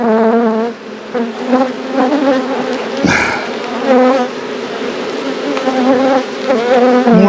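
Honey bees swarm and buzz around an open beehive during a hive check, a loud dense drone of many wings close by, wavering in pitch as individual bees pass near, with a brief knock midway and no talk.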